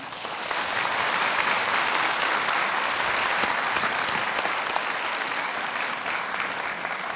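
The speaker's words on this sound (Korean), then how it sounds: "감사와 축하의 표시로 박수를 제안하고 싶습니다" Sustained applause from a large audience at a university graduation ceremony, a steady even wash of clapping that holds for several seconds without voices.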